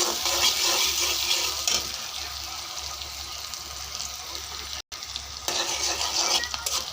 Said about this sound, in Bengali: পেঁয়াজগুলো লাল হয়ে গেছে, এখন এগুলো দিয়ে দিব